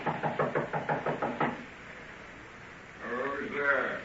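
A run of about ten sharp, evenly spaced knocks on a door, a radio drama sound effect, rapping loud and close for a second and a half, then silence before a voice begins speaking.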